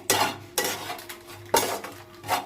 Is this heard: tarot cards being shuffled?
no